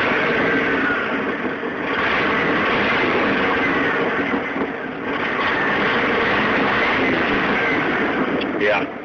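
A loud, raspy car engine drones steadily close by, rumbling and revving slightly with a harsh, unmuffled exhaust tone throughout, the exhaust cut off after the catalytic converters.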